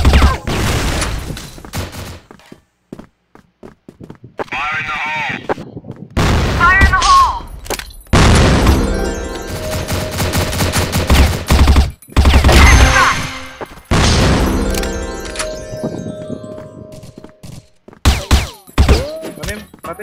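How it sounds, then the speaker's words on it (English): Flash grenades burst in a CrossFire match amid bursts of gunfire, sharp loud blasts and thuds separated by short quiet gaps, with game voice callouts and effects mixed in. "Flash grenade."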